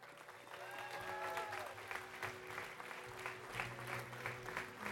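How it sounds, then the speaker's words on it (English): At a revival service, the congregation claps in a steady, full round of applause that holds for several seconds, with a faint sustained tone and a few voices mixed beneath the clapping. "Clap for them one more time."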